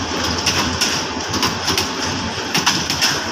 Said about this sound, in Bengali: গাইবান্ধা রেল স্টেশনে ট্রেন চলে আসলো